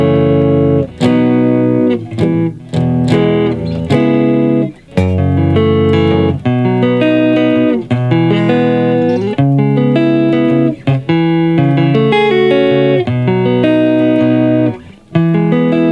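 An electric guitar plays a 2-5-1-6 chord progression in E, strummed chords ringing and changing every second or two with short gaps, loud and close.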